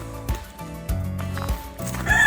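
Free-range chickens cluck in short bursts nearby on a farm, with low rumbling background noise and scattered thumps between the calls.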